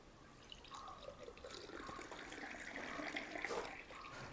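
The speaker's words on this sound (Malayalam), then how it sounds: "ഇത് ഗ്ലാസ്സിലേക്ക് ഒഴിക്കാം" Freshly made homemade sugarcane juice is poured into a glass, a quiet, close, gurgling liquid stream with splashes and drips that grows slightly louder toward the end.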